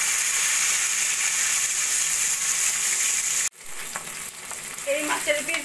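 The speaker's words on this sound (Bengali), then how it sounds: "একইভাবে বাকি মাছগুলো ভেজে নেব।" Katla fish pieces fry in hot oil with a loud, steady sizzle that abruptly drops to a softer crackle, then picks up a few light pops and stirring clinks.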